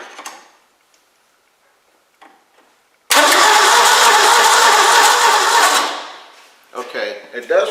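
A 1961 Mercury Comet engine cranked over by jumping the starter solenoid with a screwdriver, a loud steady whirring crank lasting about three seconds with no firing, followed by brief bursts of cranking; faint voices before.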